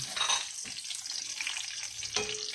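Red onion hitting a hot pan with garlic and starting to fry, a steady close sizzle with a clink partway through and no voices.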